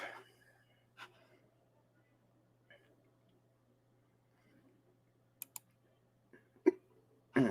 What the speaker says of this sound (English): Oh, these hiccups.